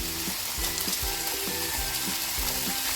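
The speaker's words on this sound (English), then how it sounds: "Stir everything together." Beef stew with spinach sizzles in a pan while being stirred, giving steady frying hiss with regular soft scraping strokes roughly every half second, close and alone without talk.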